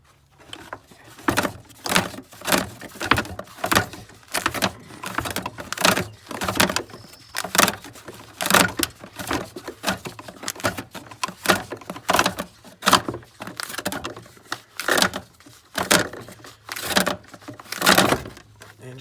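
Fan clutch being spun off the water pump of a Ford 6.0 diesel, a dense run of sharp metallic clicks and ratcheting clatters repeating steadily for the whole stretch, close and fairly loud with no talking.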